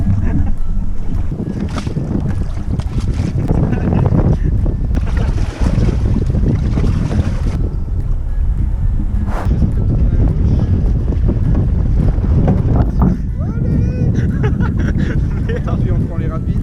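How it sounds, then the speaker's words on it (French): Raft paddled hard on the Loire river, with continuous loud water churn, splashing and wind buffeting the microphone, and a voice talking over it. "Fallait vraiment pagayer fort pour pouvoir avancer convenablement"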